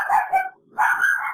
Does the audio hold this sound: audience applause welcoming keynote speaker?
no